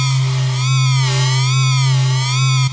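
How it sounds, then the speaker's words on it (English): A Serum synth patch in Ableton holds a steady tone with a strong low fundamental and bright upper harmonics. It carries a slow, wavering modulation and a swelling reverb tail, loud and continuous, with no voices. "You can automate like a little reverb swell."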